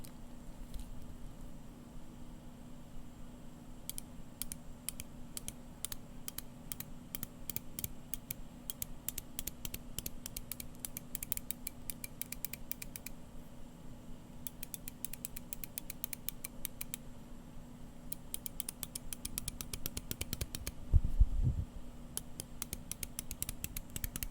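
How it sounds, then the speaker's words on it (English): The 120-click bezel of a Seiko SBDC053 dive watch turns in bursts of fast, crisp ratcheting clicks, close and quiet over a faint steady hum, with a brief soft knock near the end. "Let's go on and turn the bezel of this dive watch."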